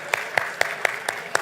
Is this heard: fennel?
no